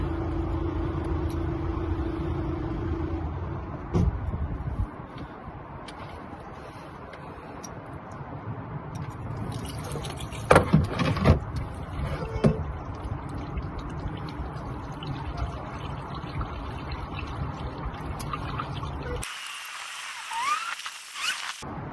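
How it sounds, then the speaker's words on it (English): Engine oil drains from a Volkswagen MK5 Golf R32 on a driveway, a steady low pouring rumble with dripping under it, a few louder splashes midway, continuing without talk. "Now that's dripping like that, let it drain"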